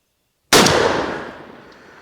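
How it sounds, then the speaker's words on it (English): A single loud Mossberg 940 Pro turkey shotgun shot cracks out of silence, sharp and close, then rings down in a decaying tail over about a second and a half. "take one shot here and see how it hits"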